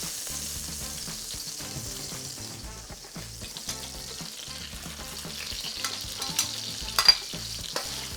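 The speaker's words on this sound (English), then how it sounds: "I'm going to add some of the meat into the oil." Meat sizzles and fries in hot seafood-flavoured oil in a home wok while Hokkien mee is made, a fairly soft continuous crackle with stirring scrapes and a few sharper pops near the end; no one speaks.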